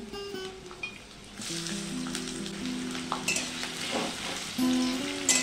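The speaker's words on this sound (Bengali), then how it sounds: "তেল গরম হয়ে গেছে, দিয়ে দেব পেঁয়াজ।" Two large onions drop into hot mustard oil and fry with a strong, close, continuous sizzle and crackle, joined by occasional scraping and clinks of a utensil; no one speaks.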